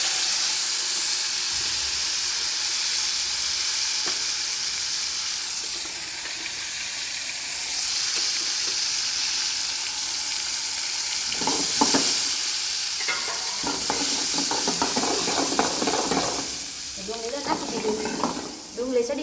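Asafoetida, cumin and onion sizzling and hissing in hot oil for a tempering, with stirring clatter growing louder toward the end; a voice speaks faintly now and then.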